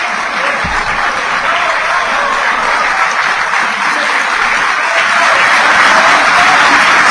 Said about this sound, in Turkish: başkanımızın yine başkan olarak devam etmesini hep beraber ayakta alkışlayarak kutlamak